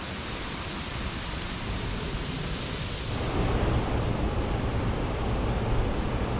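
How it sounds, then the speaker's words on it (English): The Venta waterfall in Kuldīga, Latvia, a steady broadband roar of cascading water heard outdoors on a breezy day, continuous and even, swelling slightly louder partway through, with no voices. "I could start to hear the cascading sounds of the waterfall, and that's what you're looking at, the Venta waterfall"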